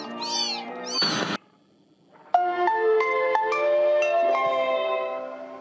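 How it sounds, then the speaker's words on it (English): A cat in the video game Amanda the Adventurer 2 gives a couple of meows, then a brief burst of noise and a short silence, followed by a long, tonal chime-like melody that continues to the end. "Good mama cat."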